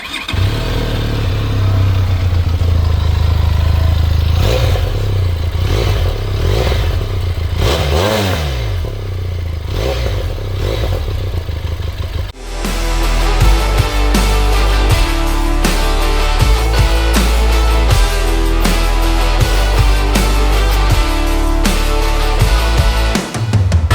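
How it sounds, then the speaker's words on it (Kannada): Benelli TRK 502 motorcycle engine running loud and close, with a steady deep exhaust drone, then a sharp change to a throatier, rhythmic exhaust burble with revving pulses through the second half; no talking. "ಎಕ್ಸಾಸ್ಟ್ ನೋಟ್ ನಾನು ಕೇಳಿಸ್ತೀನಿ ನಿಮಗೆ."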